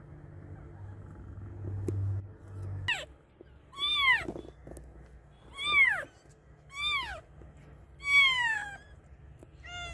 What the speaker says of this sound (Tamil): ஒரு பூனை கத்துறது